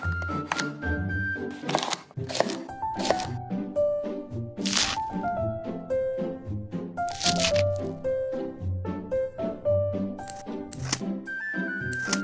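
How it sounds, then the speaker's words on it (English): A small knife chops green onions and seaweed for miniature cooking, making a steady series of crisp, crunchy cuts. The cuts repeat throughout under soft background music. "Now, chop the green onions and seaweed."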